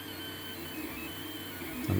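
A 3D printer runs its initial extrusion line after a nozzle change, giving a quiet, steady mechanical whir with faint stepper-motor tones and a short louder clunk near the end, with no voices.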